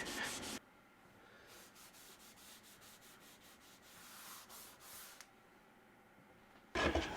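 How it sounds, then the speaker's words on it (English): A cloth rubs wax oil finish into a wooden surface in soft, rhythmic back-and-forth strokes, quiet and close, with brief louder handling noises at the start and end. "Just going to rub it in and then leave it to dry fully."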